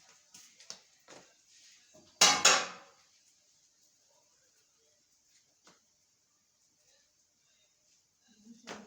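A spoon clatters against a pot while curry heats on the stove, giving a few light clinks and then one louder burst of metallic scraping. Quiet kitchen stillness follows.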